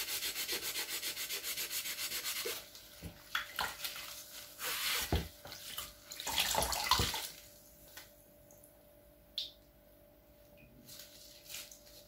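A greasy kitchen tray is scrubbed with Shumanit cleaner, giving soft, irregular rubbing and scraping strokes close by, with wet swishes and pauses between bursts.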